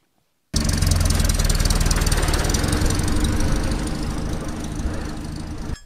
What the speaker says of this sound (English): I'll hop in the Series 2 now and I'll start it up